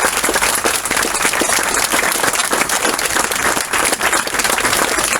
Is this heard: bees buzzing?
no